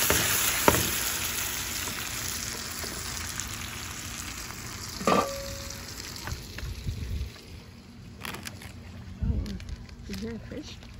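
A pot of armored catfish curry with tomatoes sizzles and fries as it is shaken, with scraping jolts and bursts of hissing over a steady crackle; people talk over it.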